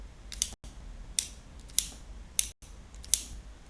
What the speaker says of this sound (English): whenever you unlock the mount, it should be clickable. You will get the voice of a click.